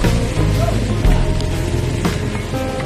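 Steady rain pouring over a flooded road where motorcycle riders get caught in the downpour, a dense continuous hiss with low rumbling traffic or engine noise underneath.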